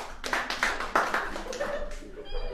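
A few audience members clap sparsely at a college comedy show, with a handful of uneven, scattered claps fading out.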